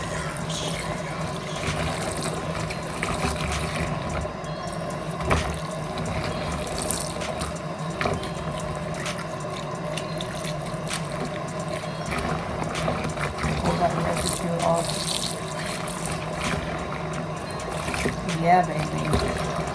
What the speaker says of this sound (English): I'm just going to rinse.